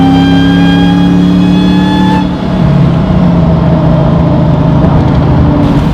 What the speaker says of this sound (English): the supercharger whines a little bit more than your mother-in-law